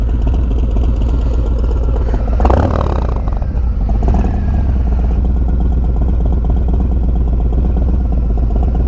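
A car fitted with a Bassani Road Rage exhaust, baffle installed, rumbles steadily at idle, loud and close, with a brief rising rev in the middle before settling back to a low drone.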